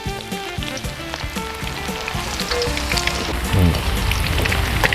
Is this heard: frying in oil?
yes